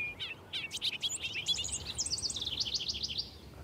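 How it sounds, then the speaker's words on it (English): Several birds sing and chirp among hedgerows and hayfields in Deerfield, Massachusetts, with quick high twittering phrases giving way to a rapid trilling song, clear and fairly near over a soft outdoor background. "I'm hearing a lot of birds right now."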